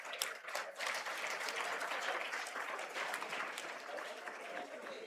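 A graduation audience claps in a broad, continuous round of applause that swells and holds, with a faint murmur of the crowd underneath.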